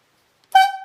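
One sharp yarder logging whistle blast, the stop-all-moving-lines signal, cuts in after brief silence, loud and steady with a bright harmonic tone.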